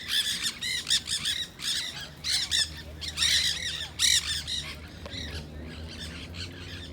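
A large flock of free-flying wild parrots squawks at the St. Petersburg pier downtown, dense repeated harsh calls in quick bursts, close and loud over faint background noise.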